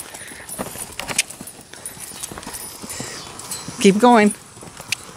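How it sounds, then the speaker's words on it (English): A Tennessee Walking Horse canters with a young rider aboard, its hooves beating a quick, rhythmic clip-clop on the ground, close and steady. A person speaks briefly and a short vocal sound rises near the end. "ask her to canter"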